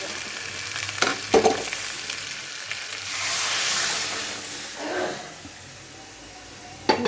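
Spiced masala sizzles and fries in a pan as water is poured in, giving bursts of crackling hiss and a rising steamy rush mid-clip, close and moderately loud with stirring clatter.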